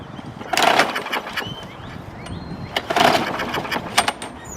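A Yard Machine 550E lawn mower, fitted with a newly replaced carburetor, is started and run. Uneven sputtering bursts and mechanical clatter rise and fall near the microphone over a few seconds.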